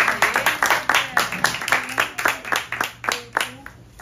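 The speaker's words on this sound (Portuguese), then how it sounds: "Então bora bater palmas pra Isabel." An audience claps steadily at a poetry reading, a dense run of hand claps at a fairly even rhythm lasting several seconds and gradually fading.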